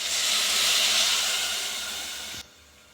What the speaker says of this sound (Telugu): ఇప్పుడు ఇంక ఇందులోకి నీళ్ళు వేసుకోవాలి